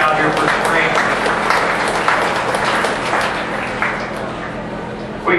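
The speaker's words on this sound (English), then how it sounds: "let's give these deer exhibitors a round of applause for bringing these animals back out here for spring." Applause at a county fair dairy show rises from the crowd around the show ring. The clapping is loud and dense, with scattered voices mixed in, and it tapers off near the end.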